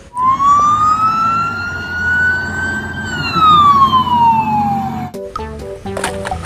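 Loud electronic traffic police toy car siren sweeps slowly up and then down in a long wail, followed by quick chirping beeps at the end.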